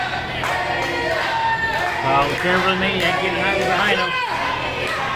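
A live professional wrestling crowd shouts and roars throughout, a dense continuous din of voices in an arena, with a commentator talking over it.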